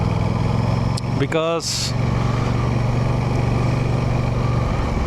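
A 2025 Aprilia RS660 Factory sport motorcycle idles with a steady low engine hum through the whole stretch, while someone talks over it.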